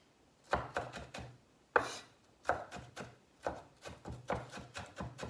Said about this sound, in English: Now I'm chopping this up really small because I don't want anybody to get a big old piece of jalapeno.